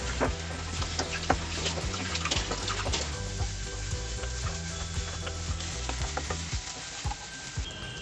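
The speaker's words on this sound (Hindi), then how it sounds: "गुलाबी होने तक डीप फ्राई करेंगे।" Onions deep frying in oil for a dhaba-style paneer masala, a steady crackling sizzle with stirring scrapes and a continuous low hum throughout, no talk.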